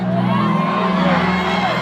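A concert crowd at Lugogo cheers and whoops for a singer on stage, a brief, loud wash of shouting voices and applause.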